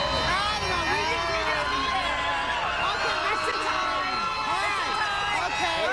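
A large New York crowd cheers and shouts continuously at a live television morning show, a dense, steady roar of voices and whoops with no clear breaks.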